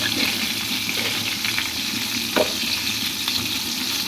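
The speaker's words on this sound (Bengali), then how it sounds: "আর এদিকে আমার বেগুন ভাজা।" Brinjal slices fry in a pan with a dense, continuous crackling sizzle, close and fairly loud, broken by a brief stir or flip partway through.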